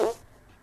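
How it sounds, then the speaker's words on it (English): A short, loud, buzzy fart sound effect bursts out at once and then trails off quickly into quiet. "It's an elephant fart"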